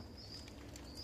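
Steady rain falling outdoors, a soft continuous patter with a faint high whine running through it, at low level and with no voices.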